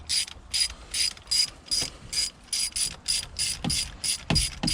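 Ratchet wrench loosening bolts on a Terminator Cobra, a quick run of about fifteen sharp clicking bursts in a steady rhythm, close and clear with no talk.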